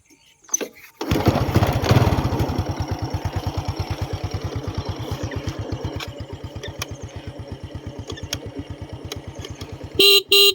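A stock Honda Wave 125s motorcycle engine starts and settles into a steady, quick-pulsing idle, close and fairly loud, with a brief horn-like toot near the end and no voices.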